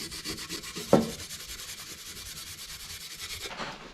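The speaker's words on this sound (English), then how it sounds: "Now I'm gonna go over this with my Scotch-Brite just to kind of give the paint something to stick to" A Scotch-Brite pad scrubs over painted metal in steady, fast back-and-forth rubbing strokes, close and continuous, with one brief louder knock partway through.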